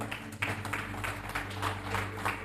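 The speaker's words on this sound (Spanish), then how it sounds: "Dale un fuerte aplauso al que vive y reina." A church congregation clapping in a steady rhythm during a worship service, a full, reverberant wash of hand claps over a constant low musical hum.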